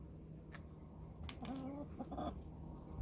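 Soft hen clucks and a brief warbling call near a garden greenhouse, over low background hum and a few clicks, faint and somewhat distant.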